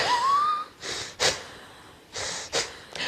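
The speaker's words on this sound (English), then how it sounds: "Almost like this wheezing sound that I just made." A person draws deep, wheezing breaths during a lung-cleansing breathing exercise, with several forceful breathy bursts repeated in a steady rhythm, close and fairly quiet with no talking.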